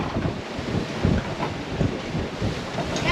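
Strong wind of about 20 to 23 knots roars steadily across a reefed sailboat on an ocean passage from Australia to Indonesia, with gusty rumbling buffets and water rushing close by.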